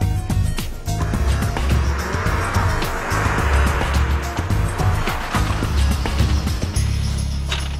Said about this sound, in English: He then brakes hard and hopefully won't hit the cones